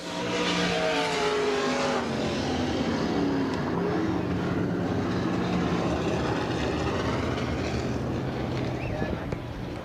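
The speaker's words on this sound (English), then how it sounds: "Just now coming out of turn number 4, Andy Hillenberg in second, Fitzgerald third." World of Outlaws sprint cars roar around Bridgeport Speedway, a loud continuous engine drone with rising and falling pitches as the pack passes, with race announcing heard faintly underneath.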